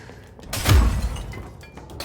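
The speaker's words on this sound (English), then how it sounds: "Ooh, let's see how the glass breaks." Glass shattering in the video game Control: one loud, sudden burst of breaking glass with a heavy low thump at the impact, followed by a scatter of smaller tinkling fragments that fade out.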